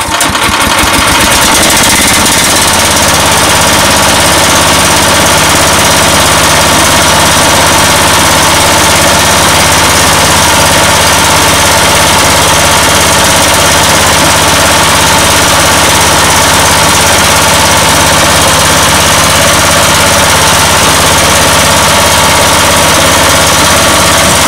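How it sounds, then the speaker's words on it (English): An air compressor driven through a newly broached keyway pulley runs loud and close for the whole stretch, a steady dense mechanical roar with a constant low hum and rattle after a brief start-up at the beginning. "So I went ahead and installed the pulley that I just broached on my air compressor."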